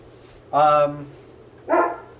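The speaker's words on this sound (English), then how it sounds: "Dog's barking." A dog barks twice at close range, two sharp, loud woofs spaced about a second apart over a quiet background.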